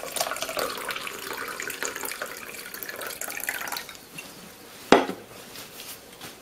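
A Cosmopolitan cocktail is poured into a martini glass as a steady, close liquid splash, followed near the end by a single sharp clink of glass.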